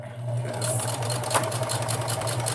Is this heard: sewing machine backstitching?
yes